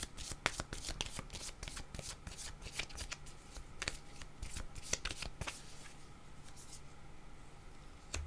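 Tarot cards being shuffled by hand, a quick run of crisp riffling flicks and soft papery slaps that carries on steadily and close up.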